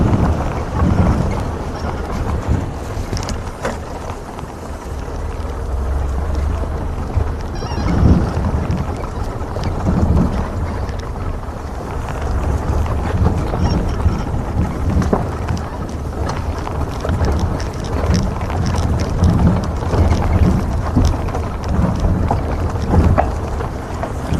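Strong wind buffets the microphone during a safari drive, a loud, continuous rumbling roar with gusting surges throughout and no talking.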